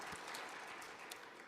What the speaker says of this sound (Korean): 우리 이분들에게도 한 해 동안 힘내시도록 박수로 격려하겠습니다.